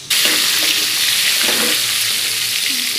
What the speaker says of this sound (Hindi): मछली अच्छा से फ्राई हो चुका है।